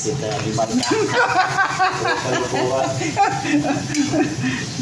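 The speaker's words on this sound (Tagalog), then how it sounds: "Ayan na yung ating gigisa nating maigi." Pork adobo with spicy chilies sizzles and is stirred in a pan, a steady frying hiss with occasional utensil clinks running throughout while people talk over it.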